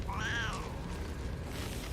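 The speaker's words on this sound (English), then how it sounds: "Wild magic turned me into a cat." A cat gives a single clear meow, rising then falling, from a character in a fantasy role-playing game after a wild magic transformation, set against a steady low game ambience with no speech.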